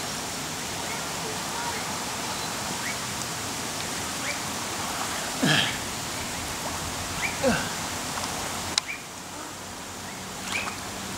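Steady rain falls outdoors as a constant broadband hiss, with a few brief louder splashes or knocks on top and faint voices in the background.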